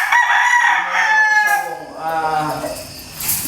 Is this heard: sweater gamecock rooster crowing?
yes